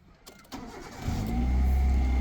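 A car engine cranks and starts with the clutch pressed, the starter whirring briefly before the motor catches and settles into a steady, close idle with a deep low rumble. No one speaks.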